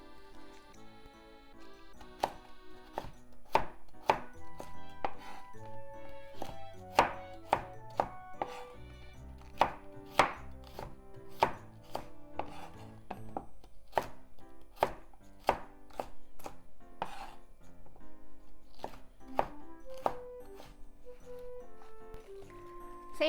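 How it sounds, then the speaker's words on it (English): A knife slices the hard core of a cabbage into thin strips on a cutting board, giving a steady series of crisp, sharp chops at a quick, even rhythm, close and moderately quiet with no talking. "This part of the cabbage is a bit hard, and it takes a little longer than the leafy part to cook. So let's make it into thin slices."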